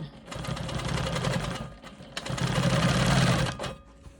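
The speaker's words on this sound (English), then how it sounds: "I'm going to come over here and stitch in the ditch on this block." A sewing machine quilts a diamond quilt block, running in two close, fast whirring bursts of rapid stitching with a brief pause between them.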